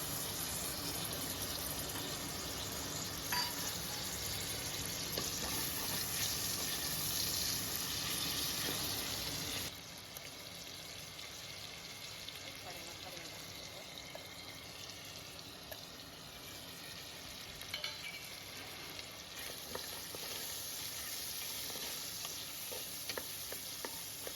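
Mutton fat frying in oil in a pan for an Agri-style mutton dish, giving a steady close sizzle with scattered pops and stirring that drops slightly quieter partway through, with no talking.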